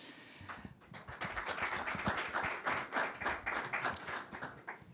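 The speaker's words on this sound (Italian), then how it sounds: "Marina Montedoro, un applauso, e Stefano Faedo" Applause from an audience at a Verona peach promotion event: a scattering of hand claps that swells into brisk, uneven clapping from a modest crowd.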